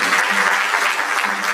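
An audience at a mental wellness and counselling breakfast conference breaks into dense, steady applause, many hands clapping at once, close and loud without pause for the whole stretch.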